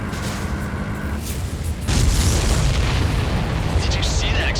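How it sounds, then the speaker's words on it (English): In Ace Combat 7, a supply ship explodes with a deep, rumbling boom that swells partway through and rolls on under continuous jet and battle noise, loud and heavy throughout. "Did you see that explosion?"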